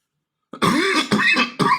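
A single throat-clearing cough rings out after a short silence, followed by two more rough bursts, close and fairly loud.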